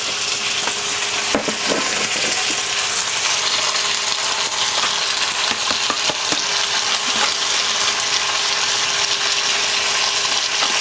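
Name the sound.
noodles added and stir-fried in pan for Mee Hoon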